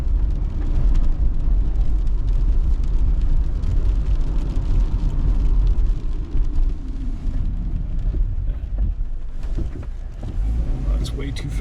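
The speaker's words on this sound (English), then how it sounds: "we're gonna brake really hard" A 2016 Subaru Forester braking hard from about 60 km/h: a loud, steady low road-and-engine rumble inside the car that eases and thins out partway through as it slows.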